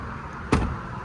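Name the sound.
minibus doors shutting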